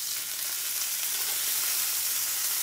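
Filet mignon steaks about an inch and a half thick sear in a hot pan, giving a steady, dense sizzle and crackle that runs evenly and close throughout with no talk.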